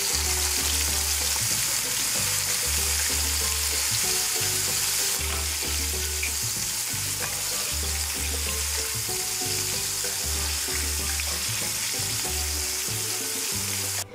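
Battered shrimp deep-fry in hot oil with a loud, dense, unbroken bubbling sizzle that holds steady throughout, over a low pulsing tone underneath and no talking.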